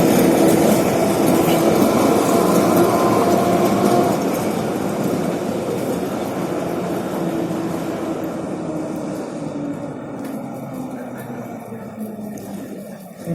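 A tram passes along a Saint Petersburg street, a loud rolling rumble with rail clatter and a faint squeal that gradually recedes and fades into the distance.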